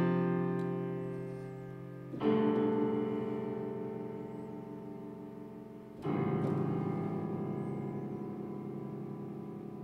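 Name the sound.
strings playing chord of all notes together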